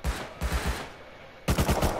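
Close, loud bursts of rapid automatic gunfire in Rust console PvP during a raid, two volleys split by a short gap filled with muffled background noise.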